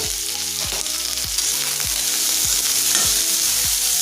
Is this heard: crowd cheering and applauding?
no